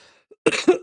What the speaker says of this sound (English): sorry, got a cough.